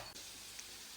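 Food sizzles steadily in hot ghee in a pan, a faint continuous frying hiss with no talking over it.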